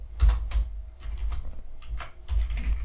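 Computer keyboard typing while writing a PLC program, a few soft clustered keystrokes with short pauses between bursts, close and fairly quiet, no talking.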